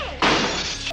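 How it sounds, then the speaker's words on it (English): A mirror falls and shatters in a horror film scene, a single loud, bright crash of breaking glass that bursts in suddenly and sprays on for most of a second. "causing the mirror to fall and shatter"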